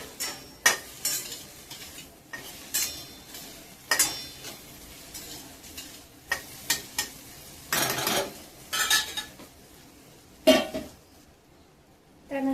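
Okra being stirred and sautéed in a spice mix in a pan, with intermittent scraping and clinking of a spoon against the pan in short bursts between quieter stretches of soft sizzling.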